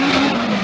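A four-cylinder turbo-powered drift car slides at a Formula Drift round in Palm Beach, its tires squealing in one loud, close, sustained skid.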